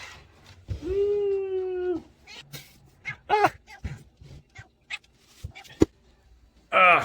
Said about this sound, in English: my kitty cat is out to be in this video